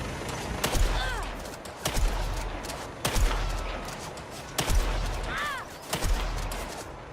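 Sniper rifle shots in the game Saros ring out as five sharp, loud cracks spaced over several seconds, each with a booming low tail, while chirping whistle-like effects sweep between shots.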